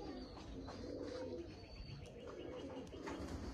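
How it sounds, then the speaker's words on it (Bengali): A Giribaz and Teddy cross pigeon cooing softly at a distance, a low murmuring call repeated over faint outdoor background noise. "এই যে ওই যে কবুতরটা দেখতেছেন ডাকতেছে"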